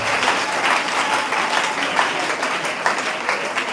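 A church congregation breaks into loud, sustained applause, dense clapping filling the room evenly for several seconds with no voices standing out.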